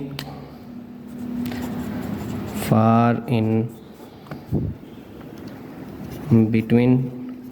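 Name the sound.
pen writing on paper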